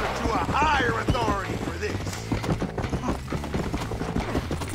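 Horse hooves clip-clopping in the video game Red Dead Redemption, a rhythmic run of hoofbeats mixed with game sounds while people talk loudly over it.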